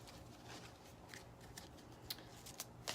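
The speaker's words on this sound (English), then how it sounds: "I'm just going to shuffle the deck here for Virgo really quickly" Cards are shuffled softly up close, a quiet riffling texture with a few sharper flicks toward the end.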